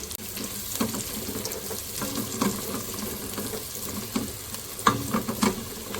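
A lengthwise-cut carrot fries in a pan for egg chicken fried rice, a continuous close sizzle broken by scattered clicks and scrapes of stirring, with no voices.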